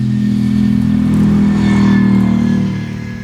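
A V8 GT concept race car at a speed festival, its engine revving loud and close, swelling to a peak, then easing off.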